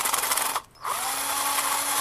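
A power drill whirs at high speed, briefly stops and spins down, then revs straight back up to a steady whine, close and loud, no talk.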